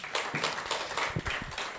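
A church congregation at the 2017 Wirye Somang Church all-member retreat claps briskly in a short, dense burst of many hands, fairly close and filling the room.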